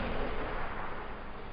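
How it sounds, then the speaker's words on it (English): A heavy punch impact from Guile's drive rush forward hard punch in Street Fighter 6, a dense booming burst of noise that fills the whole short moment and stays loud throughout. "Drive rush, forward hard punch."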